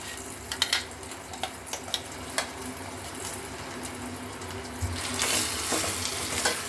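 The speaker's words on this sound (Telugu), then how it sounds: "ఇలా వేసి కొద్దిసేపు వేగనిస్తాను ఆయిల్లోనే" Tempering frying in oil for gongura chutney, with a few sharp pops and stirring clinks at first, then a steady sizzle that swells louder toward the end, heard close by.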